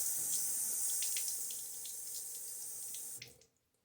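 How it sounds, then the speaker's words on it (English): Running water splashes from a tap into a basin over a shaving soap, a steady bright hiss with a few small clinks, then stops abruptly. "pour a little bit of the water over the soap there."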